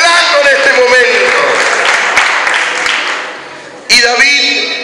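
A church congregation applauding and cheering in a loud, sustained burst of clapping and shouts that fades slightly, then swells again near the end.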